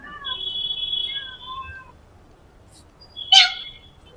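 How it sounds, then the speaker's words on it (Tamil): A cat on a rooftop garden meows in a few short, near calls, followed by one louder, sharper meow amid quiet outdoor background. "நம்ம மேலே வந்தோடனே முதல்ல நம்ம பார்க்கறது பூனை"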